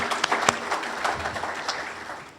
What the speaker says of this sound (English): Another round of applause for METV.